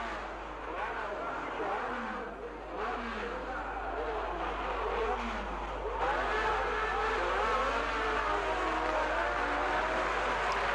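Race cars of the 1960 Monaco Grand Prix roar off the starting grid with wheel spin, a dense continuous engine din heard under a narrator's voice.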